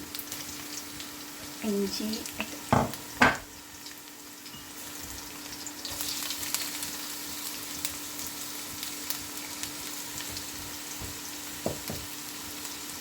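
Garlic and ginger frying in oil for Kerala-style pork roast, a faint low sizzle with a few clinks and stirring knocks from a utensil early on, quiet and close.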